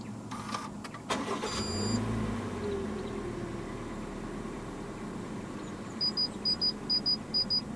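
2022 Perodua Aruz 1.5 AV started by push button: a short cranking whir catches and the engine settles into a low, steady idle heard from inside the cabin, followed by a series of soft repeating chimes.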